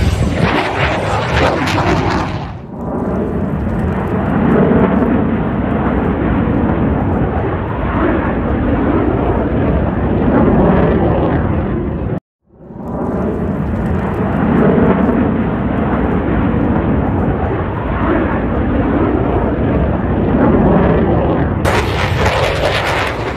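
F/A-18 Super Hornet flying an afterburning 7.5G turn at an air display, a loud continuous roaring jet rumble that cuts out briefly mid-way and then resumes, heard from a distance.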